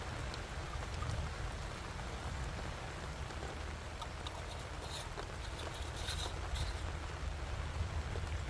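Rain falls at a well pump house site, a moderate steady patter with a few sharper drips toward the end, fairly quiet and with no voices.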